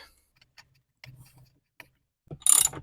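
Spark plug being tightened on an Echo leaf blower that won't start: a few faint, sparse ticking clicks and ratchet-like taps, ending in a louder, brief rattling burst, with no talk.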